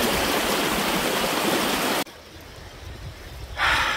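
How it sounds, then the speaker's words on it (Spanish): Spring water pours out of rocks in a canyon in a loud, steady rushing flow that cuts off abruptly. Quieter ambience follows, then another brief swell of water. "hay muchas partes aquí en las piedras donde sale agua"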